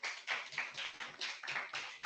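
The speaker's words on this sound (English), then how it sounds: "A big round of applause, everyone." Audience at a Toastmasters club meeting claps in a quick, fairly faint patter of individual hand claps, a small group applauding briefly without speech.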